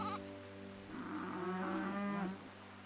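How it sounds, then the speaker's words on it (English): A newborn baby goat in the video game RimWorld gives a drawn-out bleating cry, moderately loud and alone over a steady low hum. "Baby goat."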